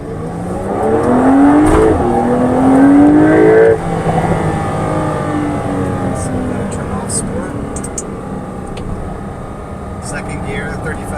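Porsche engine revving in sport mode through the standard exhaust, a rising close roar that climbs and drops near 6,000 RPM, then settles to a lower steady drone, with someone talking over it.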